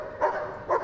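A highly driven police search dog gives two short whining yelps at a Crufts display, brief and moderately close.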